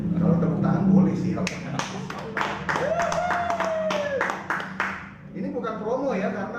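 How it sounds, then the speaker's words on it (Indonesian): An audience claps in a short run of distinct hand claps at an uneven pace, mixed with people talking and a voice rising in pitch. "Kalau tepuk tangan boleh sih."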